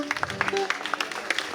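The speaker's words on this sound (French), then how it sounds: "Applaudissements à l'endroit de sagesse et de tous les enfants" Scattered audience clapping for children at a birthday celebration for maman Solange, fairly faint and uneven, with voices and background sounds mixed in.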